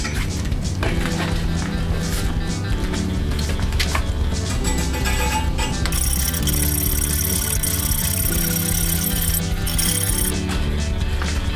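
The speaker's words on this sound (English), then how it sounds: "I really didn't realize how out of shape I was until I started cutting angle iron" Standard hacksaw cutting angle iron, a loud, rough, repetitive rasping of metal teeth on steel in steady back-and-forth strokes, close by, with a brighter scraping stretch partway through.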